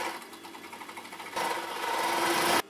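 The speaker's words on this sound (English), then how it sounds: "And using the overlocker, of course, gives you a nice finished edge." An overlocker stitches fabric tubes for sock puppet bodies. A light rhythmic whir runs first, then a louder, faster, steady machine hum follows before stopping abruptly.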